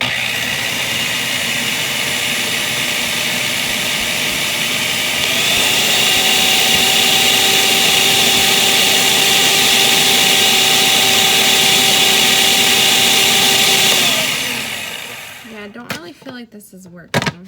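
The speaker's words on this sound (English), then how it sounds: "With the processor running, gradually mix it" A food processor runs on low, mixing flour and salt for rosemary focaccia dough. The motor hums steadily and close up, then rises to a stronger, higher whine partway through. It winds down and stops near the end, leaving small clatters.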